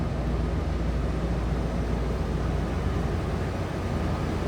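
V8 engine of a 1995 Ford F-250 XLT idling, a steady broadband rumble with a low, even drone and no rhythmic variation, moderately loud and unbroken from start to finish.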